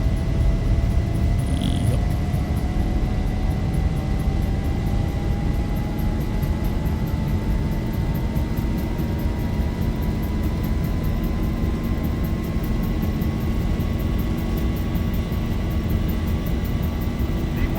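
Airliner engines spool at takeoff power in X-Plane 11 during a night departure, a loud, continuous roar with a rising turbine whine that climbs steadily over the takeoff run, plus faint cockpit chimes near the start.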